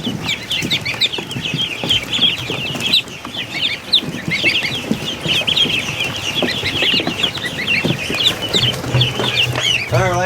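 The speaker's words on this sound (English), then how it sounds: "Duckling overload." A crowded brood of ducklings peeps continuously in loud, overlapping high chirps at close range, with faint rustling and scuffling underneath.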